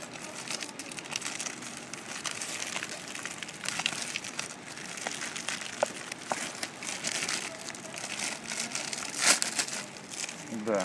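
Tape-sealed package being torn open by hand beside a pool, giving continuous close crinkling and ripping of plastic and cardboard with scattered sharper crackles, steady throughout.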